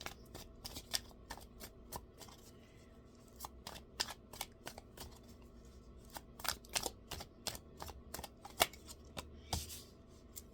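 Tarot cards being shuffled, a quiet run of crisp riffling snaps and flicks in irregular bursts over about ten seconds, close and soft with no talking.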